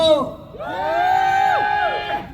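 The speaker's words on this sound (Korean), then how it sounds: "자 아셨다 하시는 분들만 다 같이 함성." A large festival crowd of thousands at a seaside New Year celebration in Uljin lets out a loud, sustained cheer and whoops, swelling and holding for a couple of seconds.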